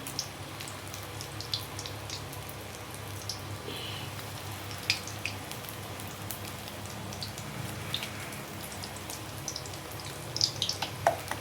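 Chillies coated in batter are lowered into hot oil for mirchi bajji, giving a continuous soft sizzle full of scattered crackles and pops, fairly quiet and close, with no talking.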